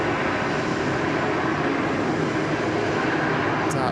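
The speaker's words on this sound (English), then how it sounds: "Qantas just rolling out there on runway 34 left." A Qantas airliner rolling out on runway 34 left at Sydney Airport, its engines giving a steady, loud broadband roar that holds without a break, heard from a distance with no talking.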